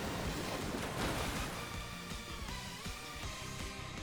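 A Muddy Water attack in the Pokemon Champions video game, a dense rushing wash of surging water that swells loudly at the start and stays steady for a few seconds with no talking.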